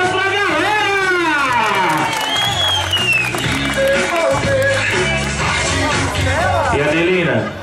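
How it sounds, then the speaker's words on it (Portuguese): Guests at a grandmother's birthday party clap and cheer loudly. Voices, shouts and crowd babble mix with the applause throughout. "palmas pra galera!"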